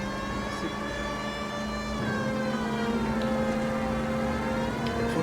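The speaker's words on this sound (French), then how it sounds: "Sirène, sirène, sirène." Police siren in the video game L.A. Noire, a steady sustained wail with harmonic layers running through the whole stretch, loud and continuous over rumbling engine-like background noise.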